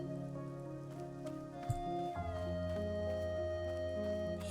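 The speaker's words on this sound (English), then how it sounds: "It's raining." Rain in the video game Wanderstop falls as a soft steady patter behind sustained tonal game music that swells partway through, the rain faint beneath the score.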